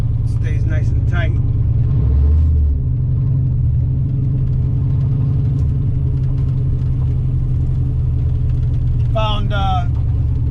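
A manual car, just fitted with a new clutch and converted to mass air, drives around the block with a steady, loud engine drone and road rumble throughout, and brief voices are heard near the start and end.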